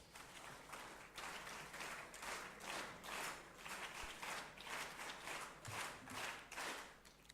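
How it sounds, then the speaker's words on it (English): A quiet round of applause from a school TEDx audience, steady clapping in rhythmic swells that carries on for several seconds with no talk over it. "Let us give her a big round of applause."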